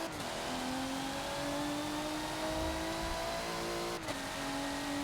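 A race car engine from the Forza racing game at the Mugello circuit drones continuously, its pitch rising steadily through a gear, then dropping briefly at a shift before climbing again, loud and close with no talk.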